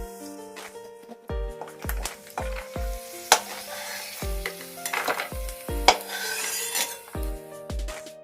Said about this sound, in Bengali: তেল গরম হয়ে গেছে, প্রথমেই বাদাম ভেজে নিচ্ছি